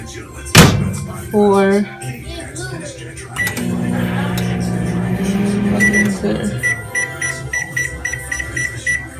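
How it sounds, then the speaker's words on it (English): A microwave oven being loaded and started to cook a sweet potato: a loud door thunk, a short beeping run of key presses, then a steady humming drone with a faint high tone, nearby and with no talk. "Put it in the microwave"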